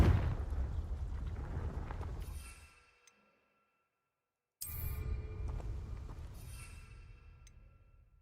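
A Confringo fire spell explodes in Hogwarts Legacy with a deep rumbling boom that fades into silence, then a second loud blast that decays slowly.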